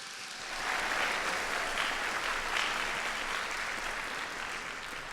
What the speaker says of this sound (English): We're going to give them a preemptive round of applause.